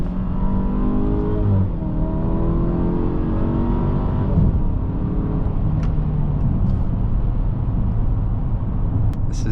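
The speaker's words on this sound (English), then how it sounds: "We're gonna turn off the music so we can hear more of this engine." A 2022 Mercedes GLE 350 luxury SUV engine drones steadily while driving, its pitch rising and falling through gear changes with paddle shifters, continuous and fairly loud with no talking.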